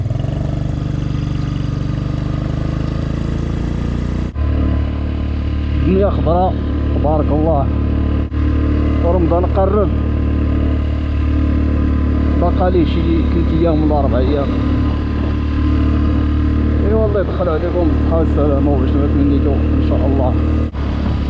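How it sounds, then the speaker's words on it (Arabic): Motorcycle engine running steadily on a mountain road near Mirleft and Sidi Ifni, a constant close drone carrying through the whole stretch while someone talks over it. "هاد الموتور كيبدا النهار ديالو فاصعب حاجة هي الطلعة هادي والفيراجات"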